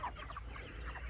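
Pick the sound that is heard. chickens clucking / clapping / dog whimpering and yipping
chickens clucking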